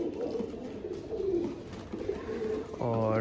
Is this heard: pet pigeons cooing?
yes